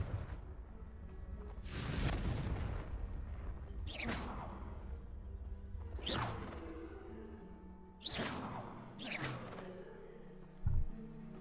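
Confringo explosive spell blasts from Hogwarts Legacy whoosh out in a series of four or five sharp bursts, each a rushing swell that fades, followed by a short thud near the end.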